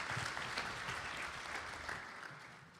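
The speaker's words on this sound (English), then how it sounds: "Please give him a round of applause." Quiet, distant applause from a satsang gathering at a birthday celebration welcoming a pandit, a soft, continuous patter of many hands that fades slightly toward the end.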